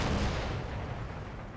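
Artillery guns firing in Empire Total War, a dense, loud rumbling boom that fades slowly, like a heavy cannon volley rolling across a battlefield.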